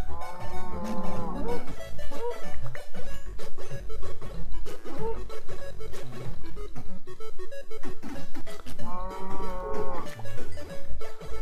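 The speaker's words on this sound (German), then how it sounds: "Da hinten sind auch noch so viele Kühe." Several Minecraft cows moo in long, low calls that recur over a steady, rhythmic background music track.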